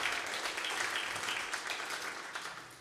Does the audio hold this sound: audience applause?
yes